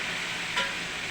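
Garlic frying in a pan alongside chicken, a close, steady sizzle with a brief stirring scrape near the middle, no talk.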